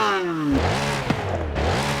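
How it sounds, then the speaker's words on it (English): A Corvette Z06 with a flat-plane crank engine revving hard, the pitch dropping sharply as it shifts and then climbing again in a loud, close, rasping howl. "This is what a Z06 actually sounds like."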